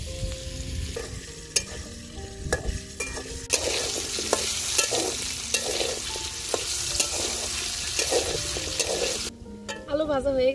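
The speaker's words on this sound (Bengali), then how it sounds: "আলু ভাজা হয়ে গেছে, এখন নামিয়ে নিব" Potato pieces coated in salt and turmeric paste fry in hot oil in a pan, a steady close sizzle broken by repeated scraping, clattering strokes of a spatula stirring them, with no talk.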